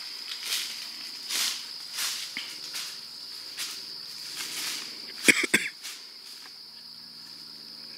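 Crickets chirp steadily at night in a swamp beside a hunter's chair, a continuous high trill with soft pulsing, and a couple of sharp brief knocks or rustles partway through.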